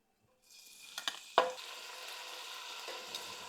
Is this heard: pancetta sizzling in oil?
yes